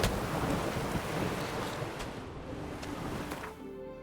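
In The Witcher 3: Wild Hunt, heavy rain hisses steadily under a low rolling thunder rumble, then eases near the end.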